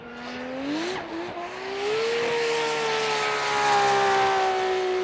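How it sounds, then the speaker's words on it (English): A Nissan S15 Silvia drift car from Fat 5 Racing at Fuji International Speedway, its engine climbing and dipping before settling into a loud, sustained high-rev howl, with a brief tire screech. "car number 18, Connor Zia with Fat 5 Racing in his S15 Sylvia"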